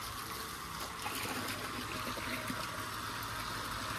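Water fills a large red tractor tyre in a steady, continuous rushing trickle, even and close throughout with no talk.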